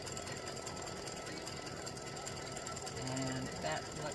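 An embroidery machine stitches a larger satin stitch applique with a 75/11 needle, a fast, steady mechanical chatter heard close up, quiet overall, with a faint voice near the end.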